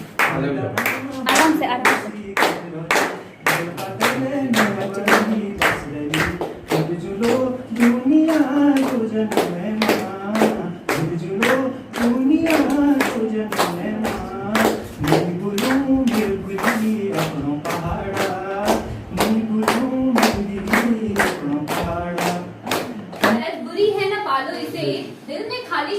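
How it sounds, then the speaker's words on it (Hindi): Audience at an Independence Day celebration clapping in a steady rhythmic beat, sharp distinct claps repeating throughout with voices over them, then tailing off near the end. "तालियां"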